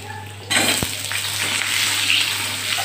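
Dried chili dropped into hot oil for tempering, ahead of poppy seeds and potatoes: a sudden, loud hiss bursts out and settles into a steady, close sizzle with a soft clink near the start and no talking.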